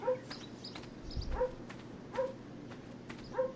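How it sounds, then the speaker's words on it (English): A dog gives short barks and yips, roughly once a second, faint and somewhat distant over a quiet room background. "Sorry if you hear the dog barking."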